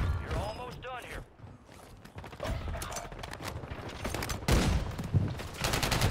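Rapid gunfire bursts in a fast-paced shooter video game, a BAL-27 rifle among the weapons, cracking shots and mechanical clatter come close and loud in irregular volleys, with a voice talking over the action.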